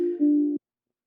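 A steady synthesizer tone in Ableton holds a low pitch, steps slightly lower partway through, then cuts off abruptly into silence.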